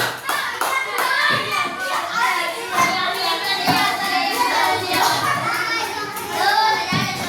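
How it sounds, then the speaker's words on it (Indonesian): Children clap their hands in a busy room, claps mixed with chattering young voices and an adult talking over them. "Ayo sekarang duduk tepuk tangan."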